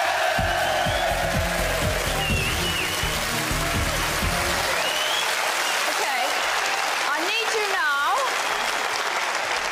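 Studio audience on a British quiz show gives a big round of applause, a steady wash of clapping with music and a voice heard over it.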